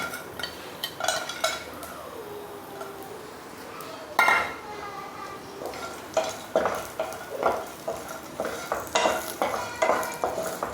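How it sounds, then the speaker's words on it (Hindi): Almonds, cashews and raisins stirred and roasting in ghee in a kadai on a gas stove, with steady frying hiss and repeated clinks and scrapes of a spoon against the pan throughout. "और इसमें हम थोड़े से ड्राई फ्रूट्स भून लेंगे।"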